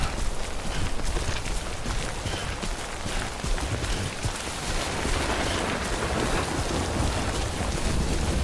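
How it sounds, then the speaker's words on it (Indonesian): Steady heavy rain with low rolling thunder from the video game Death Stranding, a dense continuous downpour hiss throughout, with no voices. "Tuh hujan lagi."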